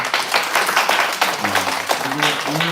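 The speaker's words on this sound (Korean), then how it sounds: "우리 경례 박수 한번 할까요?" Church congregation clapping together during a Korean worship service, a dense sustained patter of many hands lasting throughout, with voices murmuring underneath.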